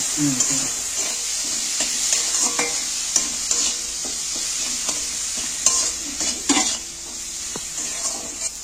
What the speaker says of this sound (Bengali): এবার আমি মশলাটা একটু ভালো করে কষিয়ে নেব।